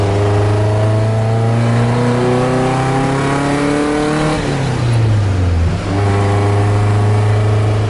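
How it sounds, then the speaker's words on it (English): A Nissan S13 engine with a throaty aftermarket exhaust, header and cat delete idles, revs up steadily, drops back sharply, then settles into a deep rumbling idle, close by. "this is my old exhaust with the header and then the cat delete"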